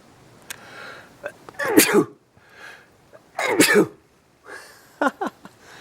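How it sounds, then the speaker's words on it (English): Two sharp, loud sneezes close by, separated by a short pause, with a few small clicks and breaths in between. "I documented my own sneeze"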